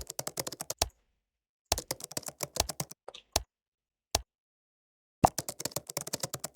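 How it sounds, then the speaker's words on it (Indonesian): Keyboard typing effect for a game, rapid bursts of crisp key clicks broken by short pauses and a few single taps, close and clear with no talk. "Suara ngetik oke."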